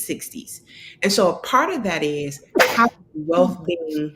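A single sneeze bursts out sharply near the start of a lecture on economic mobility and higher education, quickly followed by a man's continuing speech about wealth.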